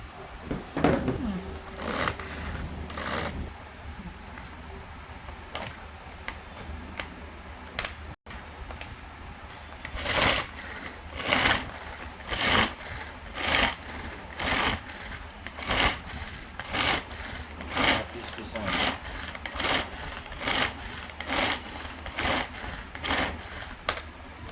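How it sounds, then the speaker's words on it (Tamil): A Pigeon manual pull-cord vegetable chopper chops in a fast series of sharp, rhythmic rasping strokes, close and distinct, after a quieter stretch of handling at the start. "உங்களுக்கு எந்த அளவுக்கு வேணுமோ அந்த அளவுக்கு சாப் பண்ணிக்கலாம்."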